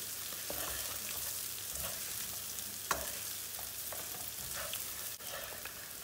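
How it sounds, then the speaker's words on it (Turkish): Rice toasting in a pot until it sticks, stirred with occasional scraping clicks over a quiet, faint sizzle, close and low in level. "Pirincimiz zor karıştırmaya başlandı."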